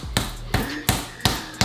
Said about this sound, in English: I don't have like a meat hammer, so I just punch it.